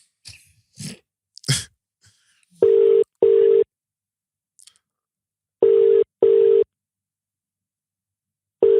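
A phone call being placed: after a few brief rustles and a sniff, a steady ringback tone sounds in two paired beeps, pauses, repeats, then starts once more, loud and clean over silence.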